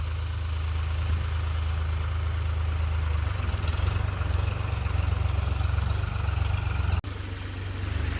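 A tractor engine runs steadily in a farm field with a constant deep, throbbing rumble at close range, with a brief sharp knock near the end and no speech.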